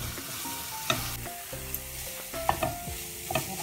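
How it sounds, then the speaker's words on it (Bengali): Condensed milk, cream and grated coconut are stirred and fried over low heat for coconut ladoo, a close scraping and stirring with soft bubbling sizzle and several sharp utensil clinks against the pan. "এটা খুবই অল্প আগুন দিয়া ফ্রাই করা লাগবো, যাতে কন্ডেন্স মিল্কটা ক্রিমের সাথে খুব ভালোভাবে মিশে"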